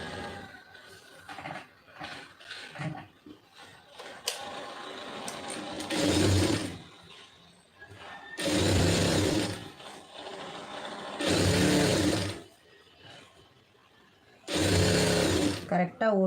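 Sewing machine stitching a lined blouse, running in four sustained loud bursts of a few seconds each, with quieter handling sounds and a voice in the pauses between runs.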